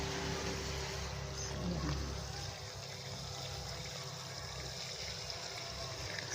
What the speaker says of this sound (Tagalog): Ito na po ang kinalabasan ng tubig nila.